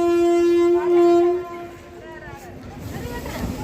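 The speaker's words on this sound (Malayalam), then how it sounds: "കാഞ്ഞങ്ങാട് റെയിൽവേ സ്റ്റേഷനാണ്." At Kanhangad railway station, a loud train horn sounds a long steady blast that fades after about a second and a half. Rumbling platform and rail noise continues underneath, and a voice can be heard briefly.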